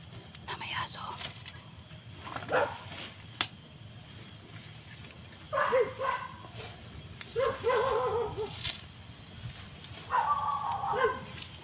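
A dog barks in a few short bursts spread across the clip, with quiet whispering voices and a low background hum between them.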